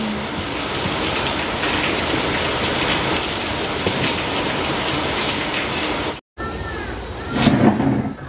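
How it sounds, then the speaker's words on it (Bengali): Steady heavy rain pours down, hissing on surfaces. Near the end it briefly drops out and then returns with a louder swell and faint voices in the background. "বৃষ্টি পড়ছে, ঠান্ডার ওয়েদারে ঘুম ভালো হবে।"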